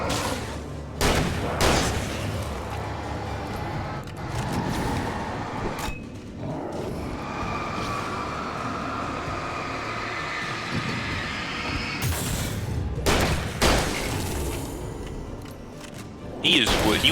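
Flashbang explosions in the video game Alan Wake, several sharp loud bursts spread across the stretch, punctuating a dense rumbling game soundtrack while someone talks over it.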